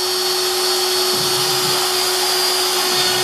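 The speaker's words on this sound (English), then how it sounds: "So I'm going to turn the spindle on. Spindle it on. Start carving." An X-Carve CNC spindle whines at a steady high pitch while carving, a loud continuous motor hum with brief rougher patches as the bit bites into the workpiece, and no talking.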